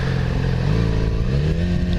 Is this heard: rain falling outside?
no